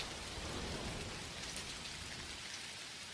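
Rain falling in the farming game Dinkum, a steady dense hiss of drops spattering on surfaces, even and unbroken throughout, no voices.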